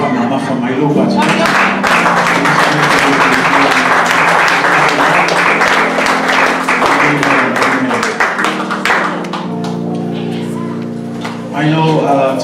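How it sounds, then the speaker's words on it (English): A church congregation at a Mother's Day morning service claps and applauds steadily, loud and close, with voices and music-like tones running underneath. "Why don't we give them a round of applause?"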